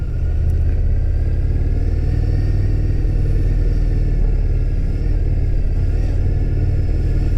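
Indian FTR1200 Sport motorcycle engine while riding, a steady, close, low rumbling drone with slight throttle variations and wind noise, no talking.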